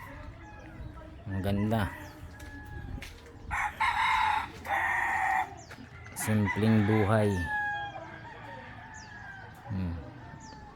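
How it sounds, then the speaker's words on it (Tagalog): Roosters crow at a quiet rural home in the Philippines, several loud, near calls in turn with clucking chickens between them, while a person speaks briefly over the birds. "Wala kang maririnig dito kundi tilaok ng mga manok."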